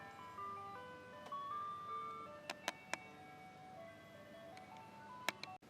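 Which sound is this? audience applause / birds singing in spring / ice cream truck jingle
ice cream truck jingle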